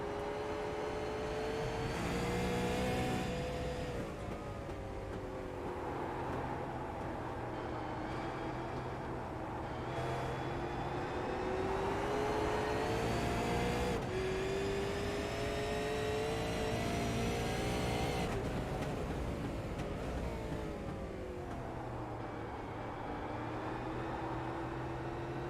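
Onboard engine of a race car lapping a circuit during a race, a loud steady drone with pitch rising and falling through gear changes and throttle lifts, heard alone without any talk.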